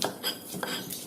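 Spice paste ground by hand in a mortar for a street-style squid and round tofu dish: close, repeated rough scraping and grinding strokes, about four in a row, with no talk.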